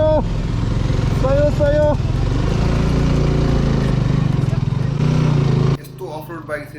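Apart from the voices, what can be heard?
off-road motorcycle engine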